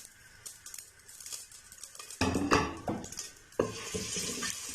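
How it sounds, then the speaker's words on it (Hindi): Finely chopped onions hit hot cooking oil in a pan for a moong masoor daal, bursting into a loud sizzle midway after quiet stirring, with a second surge of frying near the end and no talk. "ऑयल हमारा गर्म हो चुका है, तो अभी हम डालेंगे इसमें प्याज, बिल्कुल बारीक चॉप करके छोटा प्याज हमने काटा है"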